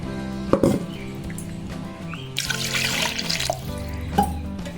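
Millet porridge (kambu koozh) is poured into curd, giving soft wet splashing and liquid patter close by, with some light knocks from the vessels and no speech.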